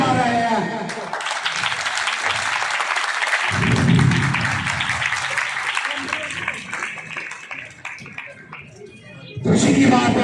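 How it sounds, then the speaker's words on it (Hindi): Children applaud happily during a tense community gathering at a Taksila colony, a broad, steady wash of clapping lasting several seconds, with a voice speaking over it near the start and end. "बच्चे मेरी आवाज पे, मेरे मशवरे पे खुश होके तालियां बजा रहे हैं"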